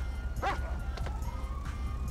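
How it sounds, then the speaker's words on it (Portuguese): A dog in the video game GTA 5 barks in a few sharp yips and whimpers over a steady low game rumble, close and fairly loud. "Sai, cachorro chato!"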